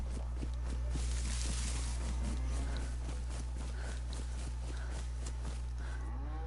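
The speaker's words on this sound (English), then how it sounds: "I hear a cow." A cow moos in the survival video game DayZ, low and drawn out over a steady droning background, with faint footstep-like taps and no talking.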